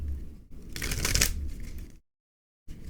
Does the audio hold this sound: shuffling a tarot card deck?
yes